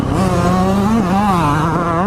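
A Yamaha two-stroke dirt bike engine screams steadily throughout, a loud, close, buzzing note that rises and dips slightly as the rider works the throttle, with no talking.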